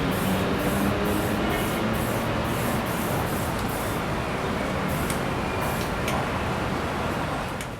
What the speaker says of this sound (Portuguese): Com a tinta spray, ele desenha a pálpebra inferior.